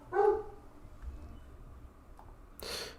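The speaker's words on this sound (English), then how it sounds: "The barking is very bad." A coonhound lets out one short, sharp bark early on, followed by quiet room noise and then a brief burst of broadband noise near the end.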